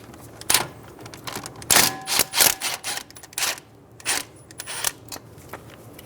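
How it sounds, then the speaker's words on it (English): A socket wrench ratchets out a 12mm bolt from the brake and ABS wire brackets on a 2007-2011 Toyota Camry, giving close, irregular bursts of sharp clicks with brief pauses, and no talking. "Using a 12mm socket, remove the bolt for the brake and ABS wire brackets."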